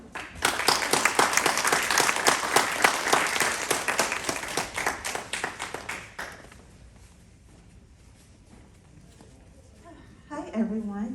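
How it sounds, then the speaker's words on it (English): An indoor workshop audience applauds the first Curators Fellow with dense, steady clapping lasting about six seconds, then it fades out and a voice begins speaking. "So please give a round of applause for our first Curators Fellow."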